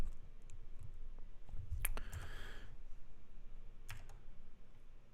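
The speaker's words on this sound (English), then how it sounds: "Oops, clicking in the wrong place." A few sharp computer mouse clicks sound near and faint against a quiet room, spaced a couple of seconds apart, with light tapping in between.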